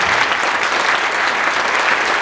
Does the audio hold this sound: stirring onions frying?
no